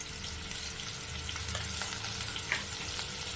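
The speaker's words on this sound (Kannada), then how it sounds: "5 ನಿಮಿಷ ನೀಟಾಗಿ ಇದೇ ರೀತಿ ಎಣ್ಣೆ ಒಳಗಡೆನೆ ನೀಟಾಗಿ ಫ್ರೈ ಆಗಲಿ." Bitter gourd frying in oil for sambar makes a dense, steady sizzle and crackle up close, with occasional pops and light stirring scrapes and no talking.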